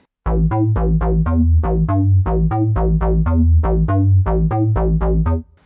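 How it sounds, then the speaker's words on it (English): A Korg Volca synth deep house bass line plays a steady run of short repeated notes, some notes gliding smoothly in pitch into the next, loud and close with no voices. "Now I will alter it a bit using a slide edit."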